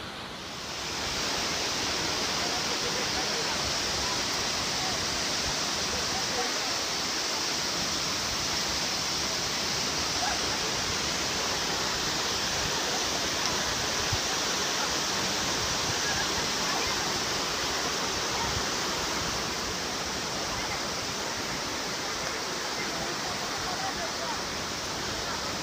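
Waterfall thundering close by, a dense, loud, unbroken rush of falling water that fills the whole scene for nearly half a minute without a break.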